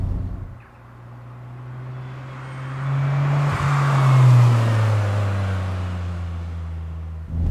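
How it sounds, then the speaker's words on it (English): A small Mazdaspeed Autozam AZ-1 engine revs hard and high, rising in pitch to a loud peak near the middle and holding a strained, buzzing drone up close, with no talking. "What's incredible for such a small high revving engine is the power band."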